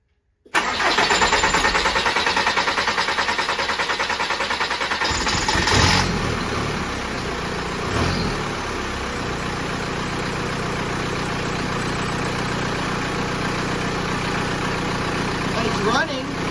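The TDI diesel swapped into a 1981 VW Rabbit pickup cranks and catches, then settles into a steady, clattering idle that runs on loudly and close by.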